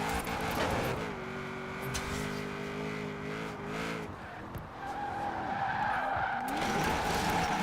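A Nissan 240SX drifting in the Forza racing game, its engine revving steadily while the tires skid and squeal through long slides, loud and continuous with a brief lull mid-clip before the skid resumes.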